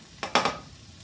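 Onions sizzle in a frying pan as they are stirred and crushed together with squash, giving a few brief scraping bursts over a soft background hiss.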